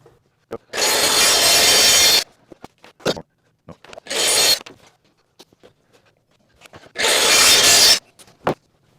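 A power saw cuts 3/4 inch plywood laid over foam in three loud, rasping bursts of one to two seconds each, separated by quiet gaps with scattered clicks and knocks of handling.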